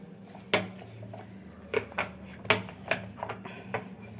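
A cup is scrubbed with a scrubber while being cleaned in a kitchen, giving a close, irregular run of ceramic clinks and knocks with soft rubbing between them.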